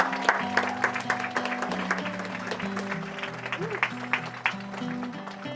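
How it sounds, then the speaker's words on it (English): At a Trinity Christian School homecoming football game, the crowd claps steadily in the background for the homecoming court, with music and a voice over it. "Let's give them one more round of applause"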